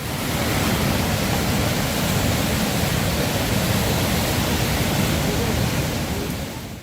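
Niagara Falls pouring past at close range, a loud, dense, unbroken roar of crashing water that fills the space evenly and fades slightly at the end.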